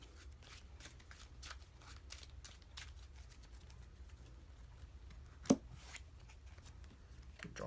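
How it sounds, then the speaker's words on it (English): Playing cards are shuffled quietly in a quick, riffling patter of soft flicks, close up, with one sharper snap near the end. "Then I'll shuffle and redraw 2 again."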